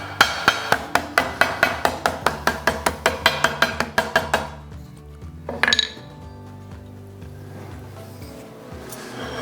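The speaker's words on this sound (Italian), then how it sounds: "Per marcare bene la superficie utilizziamo una lastra in piombo che spianiamo un pochino" A hammer flattens a lead sheet in a metalworking workshop, about twenty sharp, evenly spaced ringing blows in quick succession, then a pause and a brief clatter of metal.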